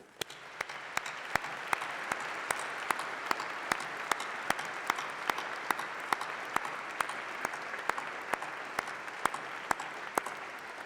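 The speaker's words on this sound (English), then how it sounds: "let's have a round of applause, a massive round of applause" Graduation ceremony audience applauding steadily, a dense, even wash of clapping with sharp individual claps standing out throughout, sustained at moderate volume without a break.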